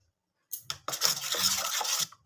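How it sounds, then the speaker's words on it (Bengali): Salt being mixed into a thick mung bean batter in a bowl, a steady close scraping and rubbing that runs for about two seconds after a short silence, with brief pauses between strokes. "খুব ভালো করে মিশিয়ে নিতে হবে লবণটা।"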